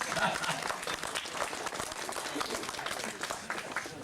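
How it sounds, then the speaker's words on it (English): An audience claps in a big round of applause at a children's show about Australian settlement, a lively patter of many hands with scattered voices mixed in, moderately loud and steady. "give yourselves a big round of applause"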